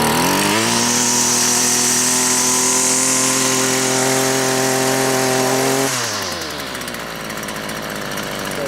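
A petrol whipper snipper engine runs loud and close at a steady high rev, buzzing with strong harmonics. Near the end the throttle drops and the engine eases down to a rougher, lower idle.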